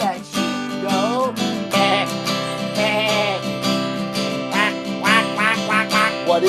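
A duck quacks in a bright, tonal run of repeated calls over a cheerful children's song with sustained instrumental chords, loud and close throughout.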